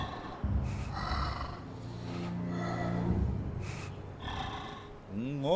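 An ogre in the video game Brothers: A Tale of Two Sons snorts, gasps and lets out low rumbling growls amid game music, with a player's voice talking over parts of it.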